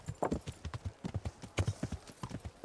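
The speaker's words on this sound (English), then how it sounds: "Just rides over them on his fancy horse." Hoofbeats of a horse in the medieval game Kingdom Come: Deliverance, a brisk, regular clip-clop at moderate loudness, near and uninterrupted for a few seconds, with no talking.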